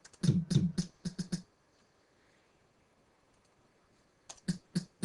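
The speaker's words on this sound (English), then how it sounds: "So you can hear the hi-hat itself now" Short bursts of crisp, filtered clicking hits in a quick rhythmic cluster, a pause of near silence, then another run of sharp ticks; dry and close.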